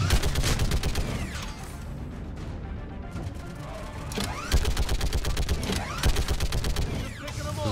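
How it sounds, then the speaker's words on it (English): A minigun in the video game Mass Effect 3 fires rapid, dense bursts amid crashes and explosions, pausing briefly before the firing resumes in quick repeated volleys. "It is a minigun."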